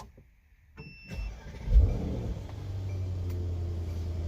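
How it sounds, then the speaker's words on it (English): A Mercedes E63 S engine cranks and fires up after a brief electronic chime, swelling to a brief rev flare before settling into a steady, deep idle rumble. "The car will start up regular."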